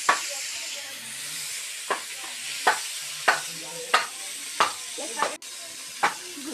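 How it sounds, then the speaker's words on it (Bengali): Fish fries in a pan for a Bengali fish curry, a close hiss of oil broken by about eight sharp scraping stirs at a roughly even pace, with no talk. "মোটামুটি আমাদের ভাজা হয়ে যাচ্ছে"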